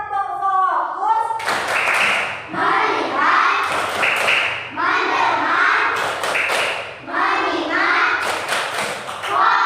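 Children chant the rhythmic 'tepuk fokus' clapping routine in a classroom lesson, with bursts of sharp group claps punctuating the sung spoken lines throughout, loud and close.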